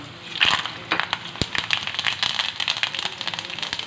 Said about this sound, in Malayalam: കടുക്, ഉലുവയും കൂടെ വറുക്കണം.